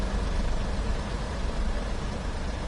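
Steady, droning locomotive engine noise in the Train Sim World game on the Tees Valley line, a continuous broadband rumble with heavy low end, unchanging in loudness and heard alone.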